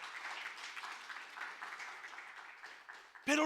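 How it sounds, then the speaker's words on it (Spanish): A church congregation applauds through a sermon service, a steady wash of many hands clapping at moderate distance, continuing without a break before ending abruptly in a sharp, louder sound. "Alguien diga amén y denle un aplauso a Cristo en esta tarde."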